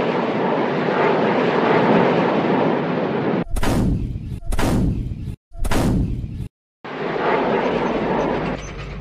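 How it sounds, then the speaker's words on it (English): Loud, dense roar of aircraft with heavy booming bursts like artillery fire in a battle scene, broken by several abrupt near-silent cuts before the roar resumes. "Aircraft are taking off as we speak."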